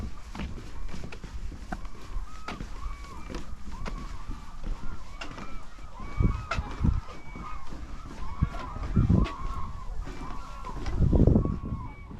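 Birds call at the Suncheon Bay coastal wetland, repeated honking and chattering cries spread across a steady outdoor background, with a few louder low thumps and bursts of nearby noise.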